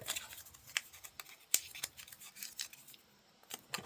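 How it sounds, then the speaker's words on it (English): Paper slips being folded by hand for a giveaway drawing, giving soft, close crinkles and sharp creasing snaps scattered irregularly across a few seconds, with no talking. "I'm going to fold these up."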